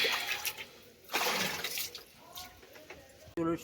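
Water is scooped out of a big bucket and poured into a small bucket, giving a few seconds of close splashing and pouring, a pause, then a short sharper splash at the end.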